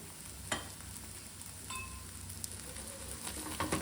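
Bele holige flatbread cooking on a pan with oil added around it, a steady close sizzling and crackling fry that continues evenly, with a couple of faint utensil clicks.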